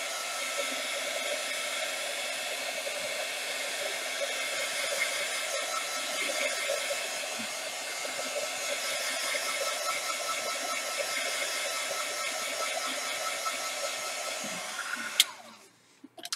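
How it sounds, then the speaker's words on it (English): Heat gun blowing steadily to dry paint on a handmade Christmas card, a continuous close, even whooshing hum that holds for about fifteen seconds before cutting off. "I'm gonna hit this with the heat gun and just kind of dry it"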